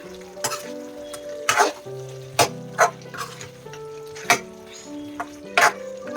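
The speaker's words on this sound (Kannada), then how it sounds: "ಇದನ್ನ ಇವಾಗ ಒಂದ್ಸರಿ ಮಿಕ್ಸ್ ಮಾಡ್ಕೊಡೋಣ" Dry chicken frying in a pan while being stirred, giving an ongoing sizzle broken by repeated sharp scrapes and clacks of the spoon against the pan, close up with no talk.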